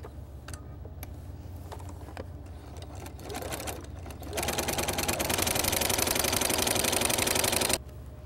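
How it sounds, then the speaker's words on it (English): A sewing machine stitches an apron pocket, its close, rapid needle chatter running steadily, then speeding into a louder, continuous whir before stopping abruptly. "And I think I'm gonna sew on one more just in case."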